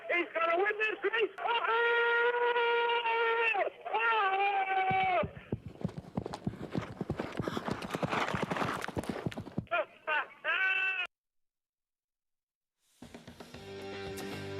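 Racehorses galloping during a race at Saratoga: a burst of rapid, drumming hoofbeats in the middle, framed by stretches of talking before and after and a brief silent gap near the end.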